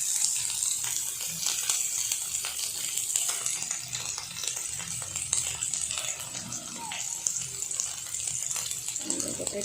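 Sliced onions hit hot rendered pork fat in a pan and give off a dense, crackling sizzle with scattered pops and spits, close and steady throughout, without speech.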